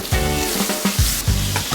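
Chicken sizzling and frying in a hot pan, with crackling bursts and a few stirring scrapes, close and fairly loud.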